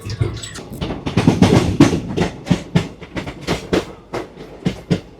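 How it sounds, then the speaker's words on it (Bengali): Netaji Express (12311) pulls out of Deen Dayal Upadhyaya station in Uttar Pradesh, its wheels giving a steady, rhythmic clickety-clack of close, loud, repeating beats heard from on board. "যথারীতি টাইমেই আমাদের ট্রেন দীনদয়াল উপাধ্যায় থেকে ছেড়ে বেরিয়ে যাচ্ছে"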